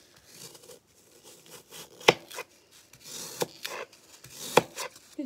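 Foam being cut makes soft scraping and rubbing with a few sharp crisp snips, irregular and close but fairly quiet, with no talking.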